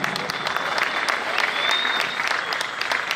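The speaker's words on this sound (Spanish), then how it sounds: "Fuerte los aplausos para el señor alcalde y para toda su comitiva que la acompaña." Crowd applause welcoming the mayor and his entourage at a neighborhood anniversary celebration in Yacuiba, steady sustained clapping with some voices mixed in.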